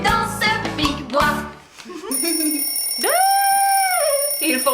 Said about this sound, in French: Il fonctionne ce réveil matin?